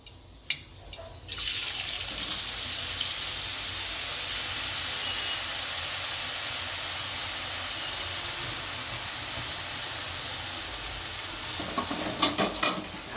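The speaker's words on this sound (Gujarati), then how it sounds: "આ રીતનું બધું તળી લઈશું આપણે" Farali chevdo ingredients fry in hot oil in a home kitchen, giving a steady, even sizzle that runs throughout, with a few utensil clinks at the start and end.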